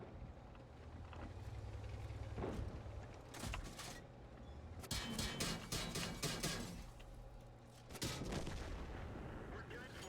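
Tank cannon fire in the online game World of Tanks: several heavy booming shots with rumbling tails, spaced across the stretch over a steady engine drone, with faint talk.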